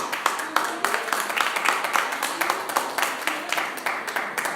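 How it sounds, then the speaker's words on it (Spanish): A church congregation applauding together, a dense run of rhythmic claps at steady volume filling the room throughout, without a break. "Denle un aplauso fuerte al Señor"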